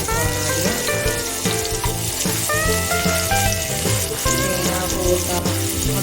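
Yam pieces drop into hot coconut oil in a cooker for aviyal, a loud dense sizzle and crackle running throughout with clattering utensil sounds layered over it, no voices.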